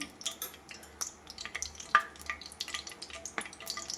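Cloves and cardamom sizzle and crackle faintly in hot oil for a village-style potato curry, with small scattered pops and a light metallic tap from the pan.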